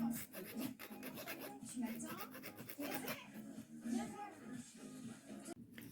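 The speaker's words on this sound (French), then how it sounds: "ma petite scie, et puis je vais tailler des petites encoches" A small hand saw rasps back and forth cutting tiny notches into the rear of small wooden arrows for a miniature bow, quick repeated scraping strokes close up in an even rhythm.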